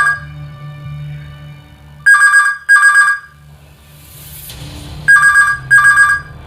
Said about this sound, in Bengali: ড্রয়িং রুমে ফোন বেজে উঠল তারস্বরে।